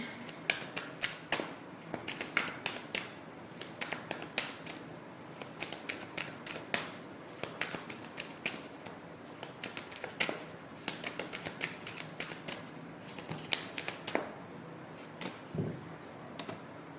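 Tarot cards shuffled by hand close up, giving a long run of quick, crisp riffling flicks and soft slaps in a steady, uneven rhythm, with no talking.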